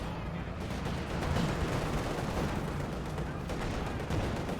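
An artillery barrage in Company of Heroes 2 thunders as a dense wall of rumbling impacts and crackling gunfire, loud and continuous throughout, with faint talk mixed in.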